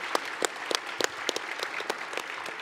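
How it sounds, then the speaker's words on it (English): An audience at the EVE Online Fanfest 2009 PvP tournament gives a round of applause: scattered, crisp individual claps from a modest crowd, loosely rhythmic and fairly close. "we should actually give them a round of applause"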